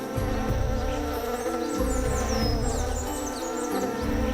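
Steady buzzing of male orchid bees in Colombia's Chocó rainforest, a dense droning hum with individual insects whining past up close.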